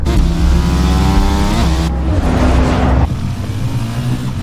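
A car drives and accelerates hard, its engine revving loud and close with rising pitch, then easing into a steadier roar near the end as it is followed by a motorcyclist.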